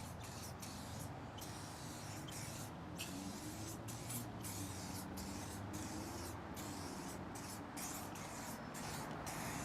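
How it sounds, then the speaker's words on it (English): Chemical Guys ShineLogic tire shine mists onto a tire in a steady, soft continuous spray with faint rhythmic trigger pulses over a low background rumble. "Simply spray directly onto the surface."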